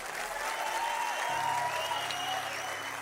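An audience at an Ethiopian motivational talk claps in a steady, fairly soft wash of applause that carries on throughout without a break, sounding somewhat distant in the hall.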